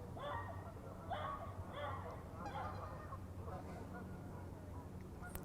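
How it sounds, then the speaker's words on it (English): Geese honk over and over in the background, a steady scatter of calls layered under continuous outdoor ambience with faint voices. "you're hearing a lot of geese in the background who are not censoring themselves"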